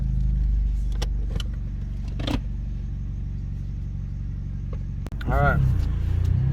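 A VW/Audi car fitted with a DQ200 gearbox, just after mechatronics replacement, idles with a steady low rumble, then a door-like thump and the engine rises as it pulls away; someone speaks briefly over the idle.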